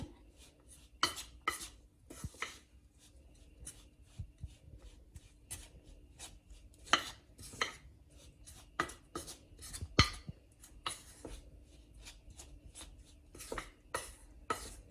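Almond sponge cake ingredients being mixed in a bowl, heard as quiet, irregular scrapes and knocks of a utensil against the container, close and alone without talk.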